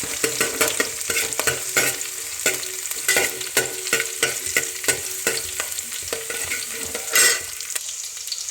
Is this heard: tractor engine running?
no